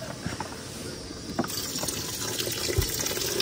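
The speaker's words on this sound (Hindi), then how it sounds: "ये ले पानी डाल दे इसमें।" Water pours steadily into a pot of rice for washing during car camping, a continuous close gushing and splashing fill over faint outdoor background sound.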